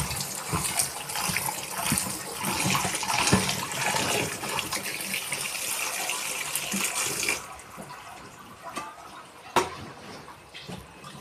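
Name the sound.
water draining from washed bamboo shoots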